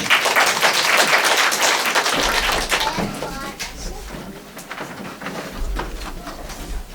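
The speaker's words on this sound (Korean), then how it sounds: "박수로 좀 축하해 주시기 바랍니다" Audience applause at a literary award ceremony and book launch, celebrating a first poetry collection: dense, loud clapping for several seconds that gradually thins and quiets, with a low hum and some murmuring voices underneath.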